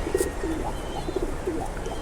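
Racing pigeon cooing nearby, soft repeated low coos in an uneven rhythm, close and clear with no talk.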